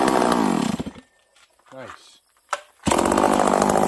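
A rebuilt Farmertec 288 chainsaw roars loud and close, drops to a brief idle with a short rev in the middle, then snaps back to full throttle; a voice speaks briefly.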